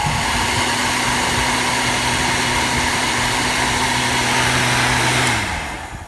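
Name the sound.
heat gun heating PVC pipe to bend it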